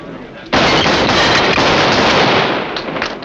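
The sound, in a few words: gunshot in a western radio drama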